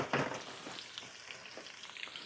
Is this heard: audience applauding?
no